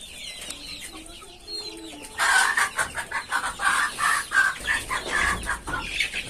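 Fancy chickens on a farm cluck and call in a quick rhythmic series of loud, close squawks after a quieter opening with softer bird sounds.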